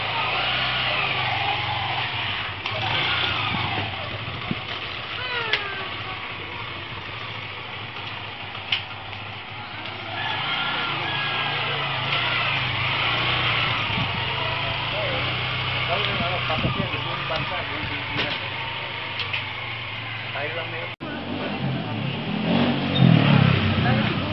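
Kawasaki Wind 125 motorcycle engine, fitted with an aftermarket energy enhancer, running steadily and revving, a continuous close engine drone with slight swells near the end and voices talking over it.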